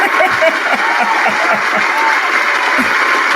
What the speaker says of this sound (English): So give you a round of applause.